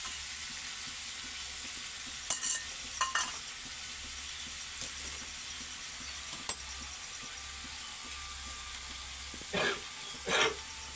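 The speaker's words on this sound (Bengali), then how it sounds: "রান্না ঠাকুরে খুন্তি নাড়াচ্ছে দেখো" A cook's metal spatula scrapes through chicken-leg biryani in a pot, giving a handful of sharp, irregular stirring strokes over a soft, steady sizzle, with a faint throat-clearing sound.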